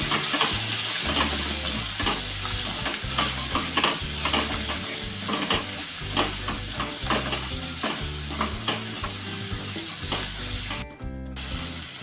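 Turmeric, garam masala and coriander powder are stirred into a sizzling pan while making a banana flower vegetable dish. A spoon scrapes and taps against the pan in a regular rhythm over a soft frying hiss, with a brief watery sound near the end.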